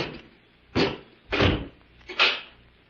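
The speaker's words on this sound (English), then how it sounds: "close the door and bolt it" In a 1945 radio drama episode of The Avenger, a door is closed and bolted. Three separate heavy thuds land about two-thirds of a second apart, close and loud, against a quiet background.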